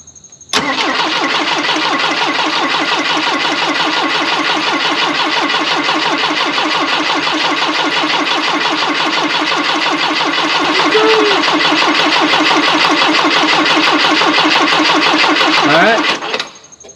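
An abandoned Volvo wagon engine cranks over steadily for about fifteen seconds, a loud, continuous rhythmic starter churn without catching, then stops abruptly.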